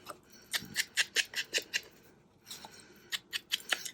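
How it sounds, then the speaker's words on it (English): Scissors cutting paper for ephemera crafting: a quick run of crisp snipping strokes, a brief pause, then another burst of snips, close and fairly quiet with no talking. "we'll just use a pair of scissors."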